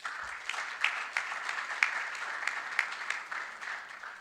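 Applause rings out at the closing ceremony of a youth forum for young award winners, a fairly soft, steady patter of many hands heard from a distance and continuing evenly without voices.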